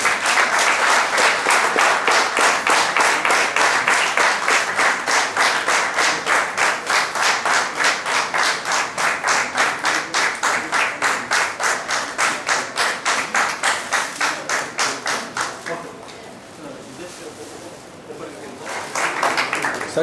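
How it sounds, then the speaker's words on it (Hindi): An indoor audience at a health event in Gujarat claps steadily and loudly for about fifteen seconds, dips briefly, then swells again near the end. "तालियां"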